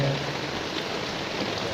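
Rain falls in a steady, even hiss with no pauses, moderately loud and close, and nothing else stands out over it.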